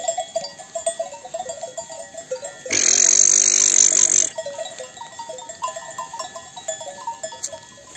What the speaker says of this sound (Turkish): Bugün de şimdi yaylanın çayırlıklarında koyunları otlatıyorum.